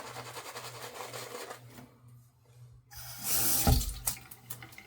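Tap water runs steadily, drops out for a moment, then surges back louder as it splashes onto a shaving brush under a low background hum.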